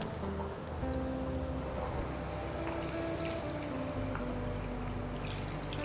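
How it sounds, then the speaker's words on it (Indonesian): Water poured into a pot of boiling meat, a continuous soft splashing and bubbling rush that carries on evenly at low level for several seconds. "Kita tambah aja dulu airnya."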